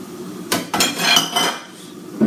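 Half a cup of sunflower seeds poured into a bowl for raw vegan veggie burgers, a few quick clattering rattles and clinks in short bursts against the bowl, close and fairly loud.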